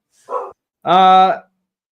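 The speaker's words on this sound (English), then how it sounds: "I said my dog's growling" A dog lets out a short low growl-bark followed by a longer, louder, strongly voiced bark or snarl, close to the microphone with no talk over it.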